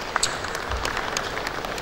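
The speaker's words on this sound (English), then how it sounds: "A round of applause for the gentleman again" Attendees at an annual assembly of registered quantity surveyors applaud a speaker, a short, steady wash of clapping filling the hall.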